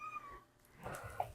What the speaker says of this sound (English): I have a cat here, one of my cats.